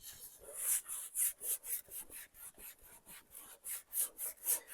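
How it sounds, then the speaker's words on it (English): Dark wax rubbed onto artwork in quick rhythmic back-and-forth strokes, about a dozen close scratchy swipes in a steady pattern. "When I start to add the dark wax"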